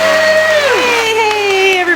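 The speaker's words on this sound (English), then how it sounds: "Save your applause till the end." A studio audience cheers and whoops loudly and steadily, a dense crowd roar with shouted voices and clapping blended together throughout.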